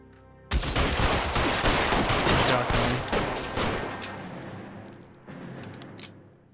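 Gunfire erupts in an L.A. Noire shootout, a dense close volley of rapid shots and bursts that gradually thins and tapers, then flares up briefly again near the end.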